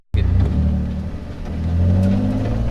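A car's engine at a grassroots drifting event kicks in abruptly and holds a loud, rumbling rev, dipping slightly before climbing again, close and continuous without talk.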